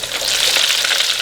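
Flour-coated chicken wings frying in oil heated to 350 degrees, giving a steady, dense, loud sizzle with a bright crackling hiss that holds constant throughout.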